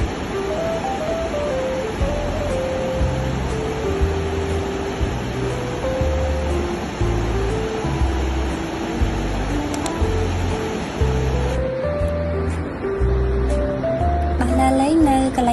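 Waterfall at the Sra Pranimit pool in Stung Treng, Cambodia: a steady, loud wash of falling water roars throughout, with music playing over it and no pause in the flow.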